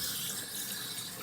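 Hot water streaming steadily from a faucet into a sink while cleaning out a dirty refrigerator, a continuous broadband wash with no talk.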